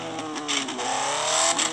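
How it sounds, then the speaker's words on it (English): KTM Super Duke R sports motorcycle revving somewhere nearby, a bright rising and falling engine whine that swells briefly, fairly faint and alone. "I believe it's a KTM Super Duke R, or one of Zuxi's sports bikes."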